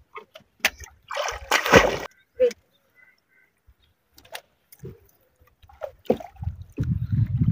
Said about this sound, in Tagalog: Kalmadang-kalmada yung dagat ngayon.